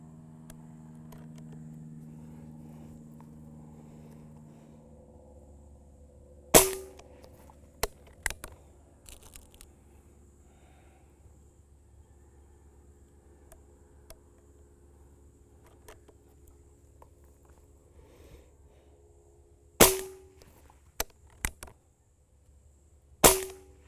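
A Benjamin Maximus .177 air rifle firing 8.4 grain JSB pellets, several sharp, short cracks spaced well apart, with near silence and faint background hum between shots.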